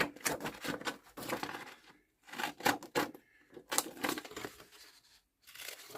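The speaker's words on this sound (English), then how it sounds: "I'm going to use my pinking shears to cut around it." Pinking shears snip around a piece of printed paper in a series of close, quiet crunching cuts, in short bursts separated by brief pauses.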